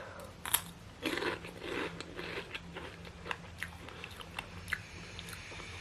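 Someone bites into and chews a hard, hollow crosshatch paprika snack, producing several close, crisp crunches and crackles followed by quieter chewing.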